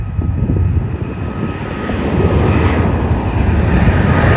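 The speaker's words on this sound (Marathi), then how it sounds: "अजून एक टेक ऑफ" A large Air India airliner takes off nearby, its jet engine roar loud and building steadily into a sustained broad rumble, with no talk over it.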